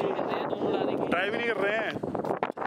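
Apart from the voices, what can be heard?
strong wind in Spiti Valley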